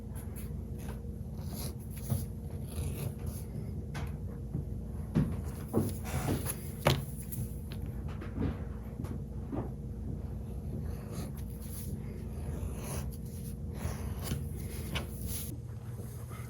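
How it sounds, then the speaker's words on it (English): A sanded leather edge is beveled with a hand edge tool, giving faint, soft scraping strokes that repeat unevenly in a quiet room. "So now we'll need to bevel it."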